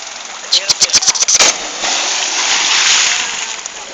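A person jumps off a boat and splashes into the water. A rapid series of sharp knocks is followed by a loud, broad rushing splash that fades out, over a constant engine-like hum.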